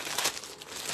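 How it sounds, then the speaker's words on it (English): Packaging on a box frame for chalk crafting crinkles and crackles steadily for about a second, close and fairly quiet, with brief louder rustles and no talking. "We are going to open our box frame."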